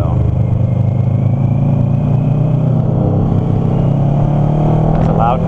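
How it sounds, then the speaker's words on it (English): A loud engine drones steadily close by, low and constant, with a voice faintly underneath. "there's a loud car in front of me."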